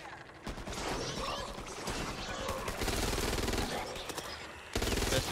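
Rapid automatic gunfire and scattered shots from a zombie shooter game, many dense bursts running almost continuously and loud, with a voice talking over part of it.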